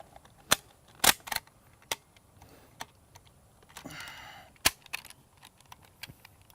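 An Egyptian Hakim rifle fires a few sharp, distant shots at an outdoor range, with scattered quieter pops and a brief rustle between them.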